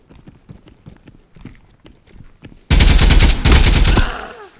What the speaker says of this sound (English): Scav to the right aggroed and pointed and is shooting.